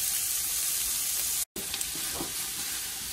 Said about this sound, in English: we're gonna add our onion, carrots, and celery. There we go, there's the sound of happiness right there